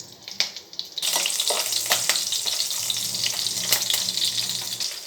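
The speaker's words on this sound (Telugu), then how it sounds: "ఇది కొంచెం ఫ్రై అయితే సరిపోతుంది." Shahjeera with green and dry chillies frying in hot ghee, a steady dense sizzle that begins abruptly after a second of quieter clinks and continues loud and close, with a few spoon scrapes and taps.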